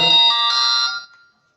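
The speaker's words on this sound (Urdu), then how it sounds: "سوری الارم بچ گیا تھا" An electronic alarm rings in a single loud, tonal burst of bright sustained pitches that holds for about a second, then cuts off and fades to silence.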